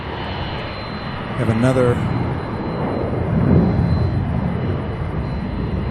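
A Boeing 767 jet bound for San Antonio at Louisville airport, a continuous engine roar swelling toward the end, with someone talking briefly over it early on.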